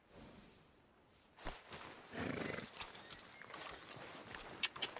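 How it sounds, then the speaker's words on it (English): In the Red Dead Redemption 2 western game, a horse clip-clops along with rhythmic hoof strikes, broken by a couple of breathy snorts and a faint whinny, heard fairly close at moderate volume. "Are you gonna mount that new horse of yours or not?"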